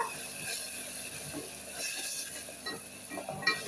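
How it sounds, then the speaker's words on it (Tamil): Ground ginger, green chili and cumin frying in oil, a soft steady sizzle with faint stirring scrapes, close but quiet, no talking. "இஞ்சி பச்சை மிளகா சீரகம் அரைச்சது இதை எண்ணெயில் வதக்கிடுவோம்"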